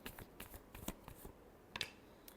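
Tarot cards are shuffled in quick, soft riffling bursts and light flicks, faint and close with no talking.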